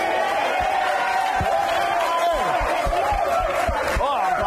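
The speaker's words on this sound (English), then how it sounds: "Oh, applause." A dating reality show studio audience cheers and whoops over a dense, loud crowd roar, with voices calling out amid the noise.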